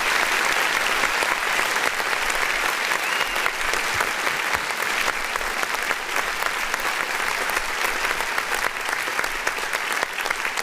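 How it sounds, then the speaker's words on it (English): Applause played from a soundboard during a live stream: a dense, steady burst of many hands clapping that holds at an even level for about ten seconds with no talking. "Where'd the claps go?"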